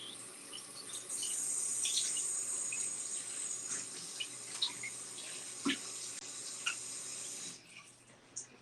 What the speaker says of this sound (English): So let me add some water to my face.